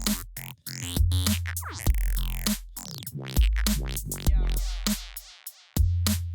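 Glitchy Serum synth tones with an auto-pan crossfader effect sweep and jump between pitches, with rapid choppy cuts and swelling bass bursts, loud and continuous with no voices.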